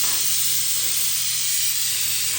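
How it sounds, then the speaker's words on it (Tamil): Onions and tomato frying in a pan for Dindigul mutton biryani give a loud, even, close hiss of sizzling and steam that runs unbroken, with no talking. "இப்போ நம்ம அடித்து வச்சுருக்கிற தக்காளியை சேர்த்துருக்கோம்"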